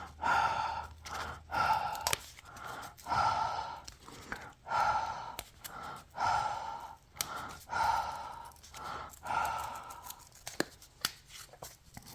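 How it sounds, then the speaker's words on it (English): Hot breath blown in repeated long exhalations onto a card to loosen glue, about a dozen breathy huffs in a steady rhythm, close to the microphone with short pauses between. "I'm going to use my hot breath"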